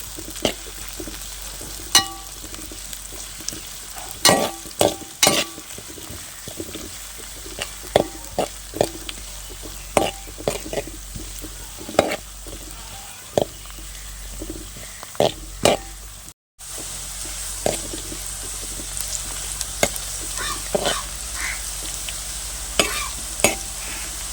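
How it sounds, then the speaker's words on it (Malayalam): Ginger and garlic sautéing in oil for Kerala-style mango pickle, a steady soft sizzle broken by repeated sharp scraping stir strokes, with a brief gap midway. "ഇനി ഇഞ്ചി വെളുത്തുള്ളിയും ചെറുതായിട്ടൊന്ന് വാടി വരട്ടത്"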